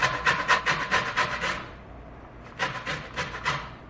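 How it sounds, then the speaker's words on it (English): Orange zest is grated on a grater in two runs of quick, rhythmic rasping strokes with a short pause between them, close and fairly loud, with no talking. "So I literally grate like the whole orange zest"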